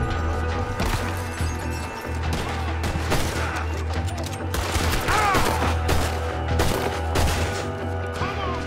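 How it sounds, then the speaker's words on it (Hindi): Gunfire in the video game Red Dead Redemption 2, with dense, rapid machine gun bursts and crashing impacts filling the whole stretch, loud and continuous over a low rumbling game soundtrack. "मशीन गन लेके बैठा था"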